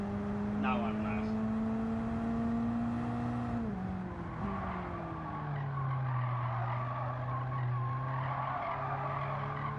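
Race car engine in a racing video game on the Tsukuba circuit, tires skidding and squealing through a drift, with a steady high engine drone that dips and recovers mid-slide; a voice talks over it.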